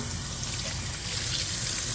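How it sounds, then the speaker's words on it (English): Tap water streams steadily over a piece of lonza cured pork in a sink, a continuous, close, fairly loud rushing flow with no talk. "Just rinse it off."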